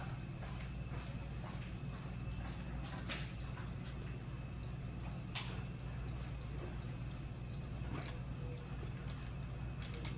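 An electric hand mixer runs on low speed, whipping homemade shower gel, with a steady whirring motor hum that holds an even level throughout.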